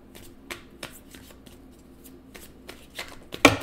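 Tarot cards shuffled and drawn by hand in soft, scattered riffles and flicks, quiet and close, ending in a sharper snap as a card is pulled.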